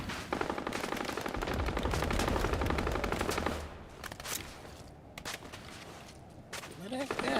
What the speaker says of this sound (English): Somebody's shooting there